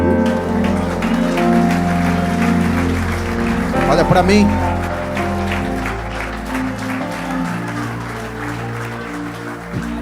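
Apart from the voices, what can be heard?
church congregation applauding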